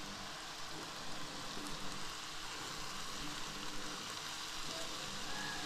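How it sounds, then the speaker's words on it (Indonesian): Vegetables stir-fry in a pan with a steady, faint hiss and crackle that runs throughout and does not stop. "Ditumis sampai matang dan dicicipi sebelum dihidangkan."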